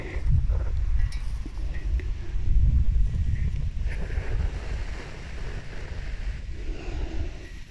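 Wind gusts across an open meadow in a steady low rumble of buffeting against the microphone, rising and easing over several seconds with no talk.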